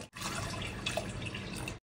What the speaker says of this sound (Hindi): अब इसमें हम 2 ग्लास पानी ऐड करेंगे